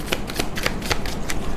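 A deck of tarot cards is shuffled and drawn close up, giving quick papery flutters and riffles repeated at an uneven rhythm over a short stretch with no talk.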